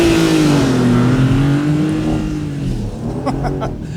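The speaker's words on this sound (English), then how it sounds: "Let's do a little launch control." A Porsche 911 Targa 4 GTS launches hard under launch control on a snowy winter road, its engine roaring close and loud as revs climb and then drop through a quick gear change, with no one talking.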